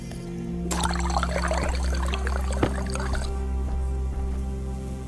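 Water bottle filler in the space game Stationeers pouring water, a steady splashing trickle over a constant low machine hum, with brief clunks near the start and middle before the flow tapers off.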